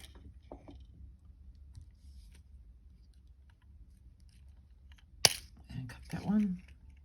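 Wire cutters snip wire for paddle-ended chain links. A single crisp snip stands out in a quiet room, followed by faint handling rustles.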